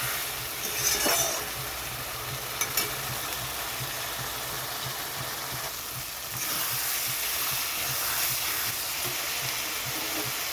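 Spice masala for fish kalia fries and hisses in a pan after a little water goes in. The steady steamy sizzle lasts throughout, with a couple of brief clinks and a swell in the hiss partway through.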